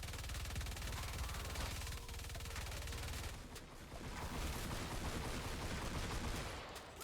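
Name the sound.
gunfire from the Swan gun in Fortnite Save the World (video game)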